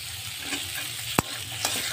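Carrot and capsicum stir-fried in a pan for a chicken mushroom soup, giving a steady low sizzle with a sharp spatula scrape near the middle and a softer stir toward the end.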